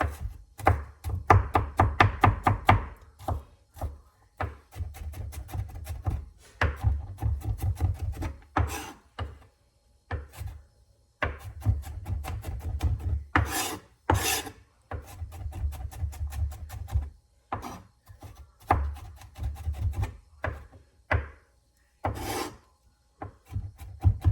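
Meatloaf ingredients are chopped and scraped on a wooden board, with rapid bursts of knife strokes broken by short pauses and occasional sharp single knocks, close and fairly quiet.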